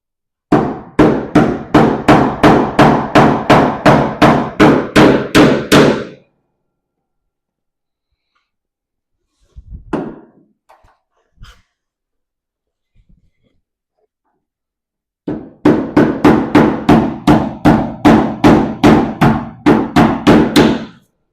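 A hammer taps new bushings into a classic car door hinge in two rapid runs of about twenty sharp, evenly spaced metallic blows each, close and loud, separated by a long quiet gap with a few faint clicks.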